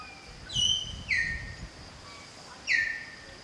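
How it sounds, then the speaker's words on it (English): Three clear descending bird calls ring out over a low rumble of background noise on a street in Koh Phangan, spaced irregularly, fairly close and loud. "Listen to this bird."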